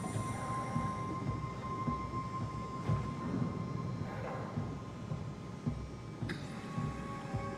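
A shuttle train in the undersea game SOMA rumbles along steadily with low rolling noise, a faint steady hum and occasional brief metallic squeals.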